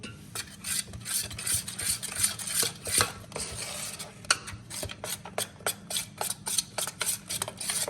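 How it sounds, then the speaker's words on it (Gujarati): A spoon scrapes and clinks rhythmically against a bowl of banana fritter batter, steady stirring strokes repeating quickly with no voices. "હવે આપણે બધું મિક્સ કરી દઈએ."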